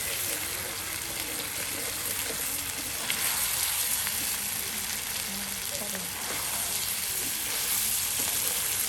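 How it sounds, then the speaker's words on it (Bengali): Chicken meat frying in oil for a curry cooked outdoors by a riverbank, a steady loud sizzle throughout with occasional stirring scrapes. "কতটা সময় নিয়ে মাংসগুলো কিন্তু তেলের সাথে ভেজে নেওয়া হচ্ছে"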